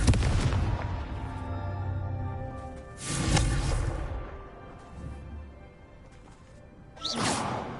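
Whooshing fire blasts from the Confringo spell in Hogwarts Legacy, with three distinct bursts that each swell into a booming explosion over a low rumble, loud and close.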